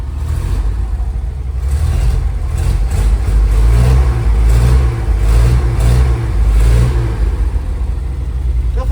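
Oil-field 1969 Chevy C30 truck with a cleaned but untuned carburetor, its engine running loud and close in a steady rumbling idle with repeated rhythmic surges as it is revved.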